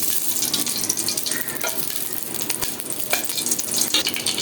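Ghee heats in a hot cooking pot for beef biryani, producing a close, bright, continuous sizzle with small pops and crackles.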